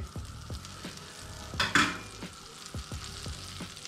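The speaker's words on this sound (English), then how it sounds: "So just absolutely cover the pan in butter." Butter sizzles in a frying pan, ready for cooking parrotfish, with a soft crackling fry, regular light utensil taps, and a brief louder hiss and clatter midway.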